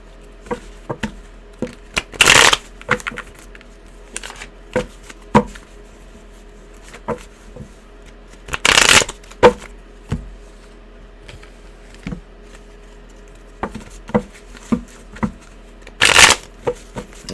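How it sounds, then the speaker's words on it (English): A deck of tarot cards shuffled by hand in three sharp riffle bursts, with softer taps and handling between them, close and otherwise quiet. "Let's do some shuffling."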